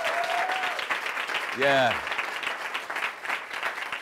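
A studio audience at a gospel variety show applauds with a continuous, fairly loud wash of clapping, while a host's voice rises over it with a brief shout.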